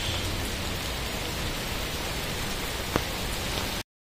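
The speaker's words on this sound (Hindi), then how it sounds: "बारिश आ रही है अंदर में, बहुत तेज़ हो रही है बारिश" Heavy rain pours in a dense, constant hiss, loud and close, with one brief sharp tap near the end and no voices.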